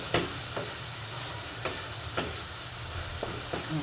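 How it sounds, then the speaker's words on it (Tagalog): Tomatoes and egg frying in a pan with a steady sizzle, while a spoon scrapes and stirs in several distinct taps and strokes, close and moderately quiet. "Haluin lang natin hanggang sa maluto yung kamatis."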